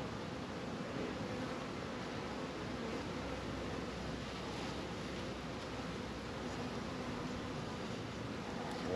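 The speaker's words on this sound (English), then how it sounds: "it is quite windy here today" Steady wind gusting outdoors on a breezy day near beehives, a broad continuous rush of air that stays fairly even and moderately loud throughout, with no voices.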